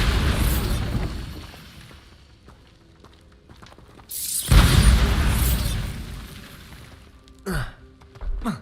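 The Bombarda explosion spell in Hogwarts Legacy goes off with a deep, loud blast that rumbles and fades over a few seconds. Earlier there is a dull boom and game ambience, and later a couple of sharp cracks.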